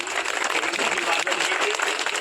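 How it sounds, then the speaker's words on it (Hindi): Crowd applause at an outdoor tree-planting event, a steady dense wash of clapping filling the whole stretch at fairly close range, with a voice murmuring faintly beneath it. "सब लोग जोरदार ताली बजाइए"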